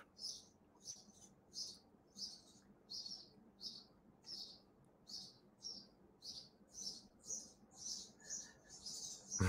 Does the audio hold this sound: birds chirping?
yes